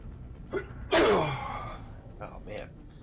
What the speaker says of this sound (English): starting to sneeze a bit now